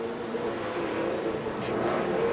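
A Pro 2 off-road racing truck with a 400 engine roars steadily on the Eldora Speedway dirt track during a TORC race, a continuous loud engine drone with a slight rise in pitch toward the end.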